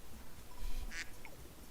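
A single cartoonish duck quack from a Discord soundboard pops out briefly over faint background noise during a Terraria session, short and fairly clear.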